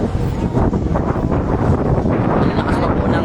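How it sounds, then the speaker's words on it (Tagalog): Strong wind at a fire scene in Tondo, Manila roars as loud, continuous buffeting across the microphone, with no clear pauses for its whole length. "Ang lakas pa po ng hangin."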